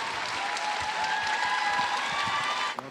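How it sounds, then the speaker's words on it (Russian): An audience applauds a figure skater, Pyotr Gumennik, with dense, steady clapping from a large crowd that carries on evenly and cuts off abruptly at the end. "Ваши аплодисменты, Петр Гуменник"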